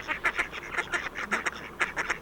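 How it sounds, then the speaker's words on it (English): Ducks and swans on the River Thames at Henley-on-Thames give a rapid series of nasal quacks and honks, fairly close and insistent, with no talking. "as you can hear, I've got a full complement of ducks and swans just to my right"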